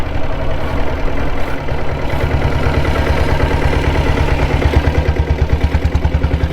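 A 1995 Royal Enfield Diesel Bullet 7.5HP motorcycle engine runs close by with a steady, loud thumping idle, its rapid low pulses and mechanical clatter continuing throughout without talk.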